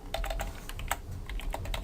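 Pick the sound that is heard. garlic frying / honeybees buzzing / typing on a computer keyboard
typing on a computer keyboard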